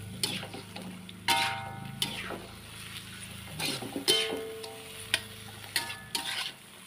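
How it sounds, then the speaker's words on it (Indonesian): Oyster mushrooms stir-fry in a pan with a soft sizzle, broken by sharp scraping and clinking strokes of a spatula against the metal at an irregular pace, close and moderately loud. "Oseng jamur, ini teh jamur tiram."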